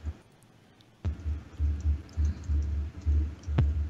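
Someone types on a computer keyboard nearby: a quiet start, then a run of muffled, thumping keystrokes in uneven bursts, with a couple of sharper clicks.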